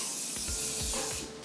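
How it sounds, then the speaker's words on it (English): A short spray of aerosol oven cleaner onto a stove hisses steadily, a soft continuous spritz with faint bumps and handling noise beneath it. "you're going to spray your oven cleaner"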